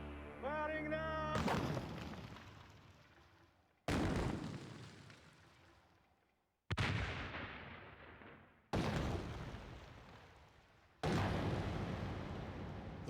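Destruction of stockpiled weapons set off on firing beds: five heavy explosions follow a short tonal call at the start, each a loud booming blast that rumbles and fades over a few seconds before the next.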